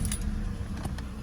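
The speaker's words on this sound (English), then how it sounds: "We'll start the car up, and so we'll start the car up." Car keys jangle briefly and closely as someone handles them to start a car being checked for a misfire problem, a short metallic rattle with no engine heard.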